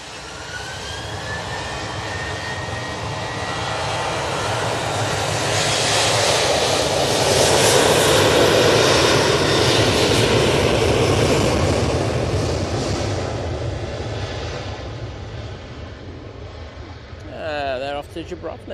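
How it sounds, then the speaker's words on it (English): A Ryanair Boeing 737-800 with split scimitar winglets takes off at Manchester Airport, its jet roar swelling to a loud broadband peak mid-clip and then slowly receding, with a voice talking briefly near the end. "Ryanair 737-800 with split scimitars"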